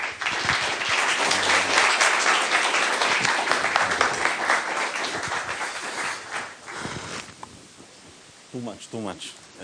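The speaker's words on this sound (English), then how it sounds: "let's give a warm round of applause for Uriel Kosayev" An audience at a cyber and AI talk gives a speaker a warm round of dense, sustained applause that fades after several seconds, followed by someone speaking into a microphone.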